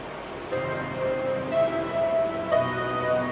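An arp bass sample from The Sample Nook plays alone as a soft, sustained line of repeating tones, steady and moderately quiet.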